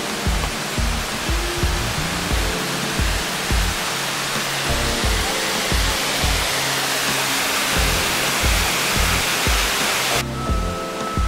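Water rushes down a resort water slide in a continuous, loud hissing roar, with dull rhythmic thumps underneath.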